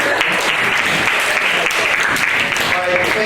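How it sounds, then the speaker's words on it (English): Loud, dense audience applause at a hypnotist show after a prom, steady clapping from a close crowd throughout, with faint voices mixed in. "Let's give her a round of applause."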